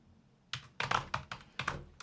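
Quiet, close keystrokes on a computer keyboard as code is typed, a handful of soft clicks in an uneven rhythm with no talking.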